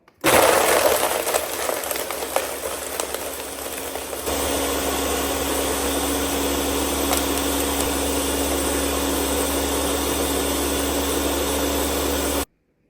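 A kitchen blender crushes ice on low speed for a homemade Starbucks Frappuccino with whipped cream, a harsh rattling churn that starts loud, then settles into a steady, slightly quieter grinding whir, close up and without talk.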